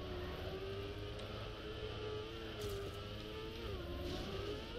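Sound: race car engine in racing video game

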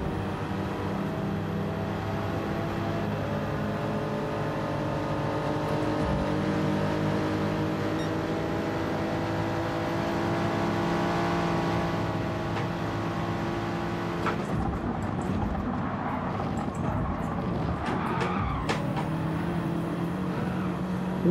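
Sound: BMW Z4 and M6 race cars engines in a racing video game

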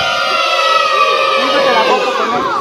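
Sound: girls in an audience shouting together

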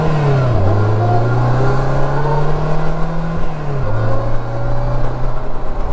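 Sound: Polaris Slingshot E-Gear accelerating

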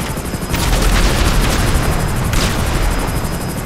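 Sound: combat aircraft flying in GTA Online video game

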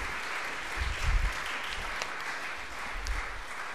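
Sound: applause

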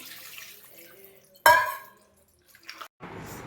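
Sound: water poured into cooking pot

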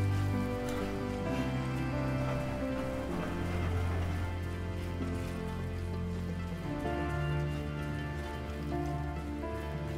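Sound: rain in a video game

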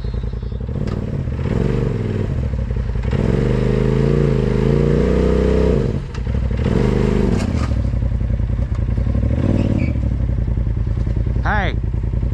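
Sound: off-road vehicle stuck on its skid plate

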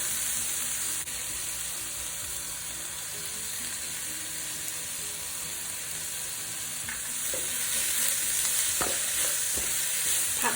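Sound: stir-frying streaky pork with dried chili and salt

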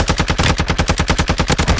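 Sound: gunfire in a Call of Duty video game

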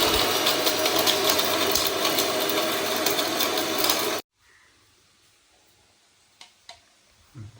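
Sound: mixer grinder grinding spices

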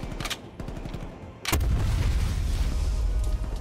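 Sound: explosion in a video game

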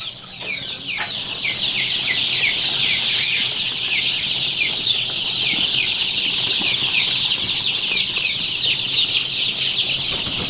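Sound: Tiger breed chicken chicks on a farm

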